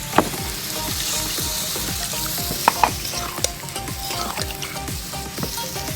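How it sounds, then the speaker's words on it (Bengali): Spices for a Bengali dried fish curry with drumstick sizzle loudly in a pan as water goes in, with steady rhythmic stirring scrapes and a few sharp clinks, close and continuous with no talk. "এবার জল দিয়ে দিচ্ছি।"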